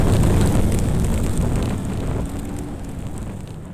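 Rotsun car with a 5.5L V8 burning in a BeamNG.Drive game, a steady roaring, crackling rush of flames that is loud at first and slowly eases off, with no talking.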